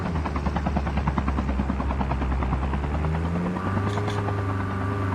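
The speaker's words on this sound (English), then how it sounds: "Helicopter coming in." A helicopter arrives in the Call of Duty Mobile multiplayer video game, its rotor beating in a steady, loud thump that shifts in pitch partway through as the craft draws closer.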